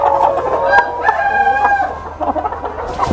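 Lohmann parent stock hens in a poultry farm shed cluck and cackle loudly and close by, several birds overlapping in rising, drawn-out calls followed by shorter choppy clucks.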